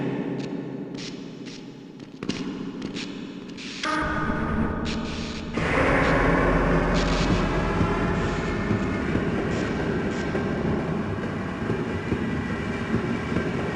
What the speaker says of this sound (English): Press your forward and backward keys to increase or decrease the speed of the train.